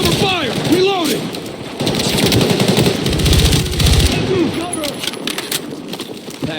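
Bursts of machine gun cover fire in the Battlefield 6 campaign, rapid repeated shots running through most of the stretch amid combat noise, with game voices calling out over the gunfire.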